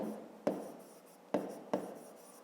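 Three sharp pen strokes tap and scratch across paper during a fifth-grade math exercise, each a quick accent trailing into a soft scrape, close and quiet.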